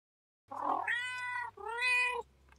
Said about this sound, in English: We're cats and we're animals.